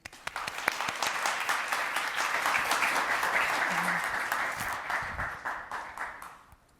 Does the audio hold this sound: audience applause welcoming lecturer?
yes